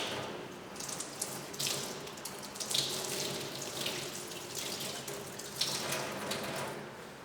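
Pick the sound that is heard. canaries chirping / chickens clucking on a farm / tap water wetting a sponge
tap water wetting a sponge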